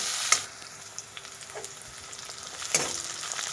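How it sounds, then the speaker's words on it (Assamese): Onions with cumin, dried and fresh chillies and bay leaf fry in a pan for alu matar paneer ghugni, giving a steady sizzling hiss with occasional stirring scrapes and clicks. "এতিয়া আমি পিঁয়াজখিনি অলপ ভাজি ল'ম।"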